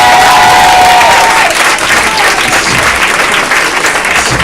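Loud, dense applause fills a comedy club audience, near and steady throughout, with a brief whistle or cheer tone at the start.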